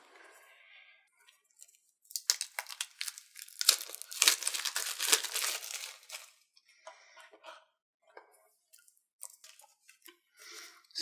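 Shrink-wrap is torn and peeled off Grimslingers item card decks, with close crinkling, crackling and tearing in bursts between quieter pauses.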